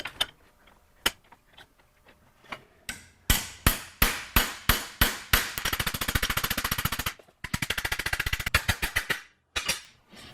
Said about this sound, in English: I'll use a hammer to tap it down tight.